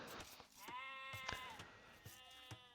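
Sheep bleat repeatedly in the Age of Empires video game, several clear wavering cries spaced over a few seconds against quiet game ambience.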